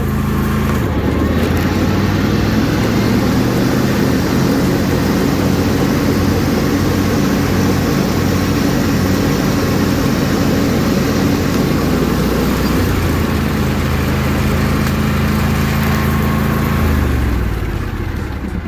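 A John Deere LA175 lawn tractor engine runs with the mower deck PTO engaged, a loud, steady close-up drone with a continuous mechanical whir throughout and no talking.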